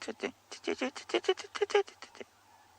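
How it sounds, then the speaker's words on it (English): Crested francolins call at dawn in a private game reserve, giving a rapid rhythmic run of harsh, repeated notes that builds and then trails off, fairly close and clear against a quiet background. "And the crested francolins."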